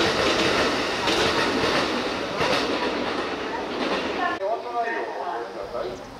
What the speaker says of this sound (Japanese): ホームを発車したのは1671列車、近鉄奈良駅各駅停車です。